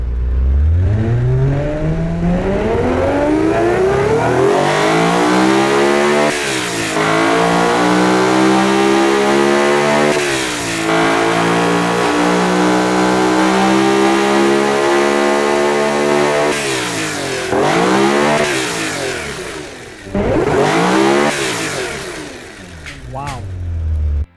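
Boosted car engine in BeamNG revving hard and repeatedly, pitch sweeping up and down through several throttle blips, loud and close with a steady mechanical whir, largely alone apart from a few moments of speech.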